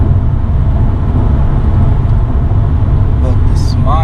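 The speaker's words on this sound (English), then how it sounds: "And the exhaust is louder, very louder." Low, rumbling exhaust drone of a BMW M3 heard from inside the cabin with the windows up, a steady heavy roar under wind noise, with a voice talking over it near the end.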